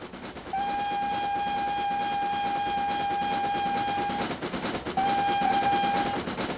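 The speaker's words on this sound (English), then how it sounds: "Do you like the train? Nay, it's noisy and disturbing." A Talyllyn Railway steam train runs loudly with a steady rumble while its whistle sounds one long sustained blast, pauses briefly, then gives a second shorter blast.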